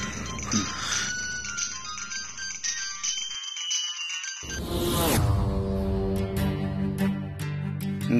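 Electronic phone ringtone plays a bright repeating melodic pattern, pausing briefly midway before a rising tone and a renewed run of chiming notes, fairly clear with no talking.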